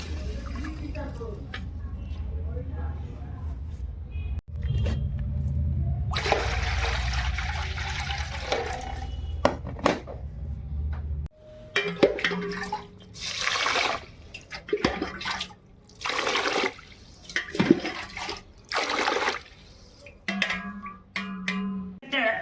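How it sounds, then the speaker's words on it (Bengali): Rice being washed under a running tap in a home kitchen, a steady gush of water pouring and splashing, then broken into short bursts of sloshing and trickling, with a person speaking intermittently over it. "এখানটায় চাল ধুয়ে নিচ্ছি"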